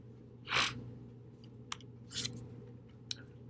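A single sharp sneeze bursts out near the start in an indoor room with a steady low hum, followed by a few faint clicks and a softer rustle.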